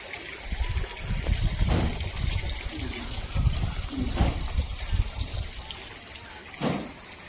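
Water sprays like a fountain into a fish-farming tank, giving a steady close hiss and splashing with occasional louder gushes throughout.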